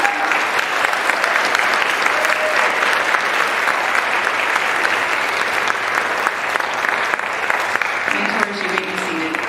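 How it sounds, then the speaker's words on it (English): An audience at a Phi Theta Kappa honor society induction ceremony applauds the mentors, a dense, steady round of clapping that fills the whole stretch with a few brief voices and cheers mixed in. "Let's give these mentors a round of applause for the lives they've impacted."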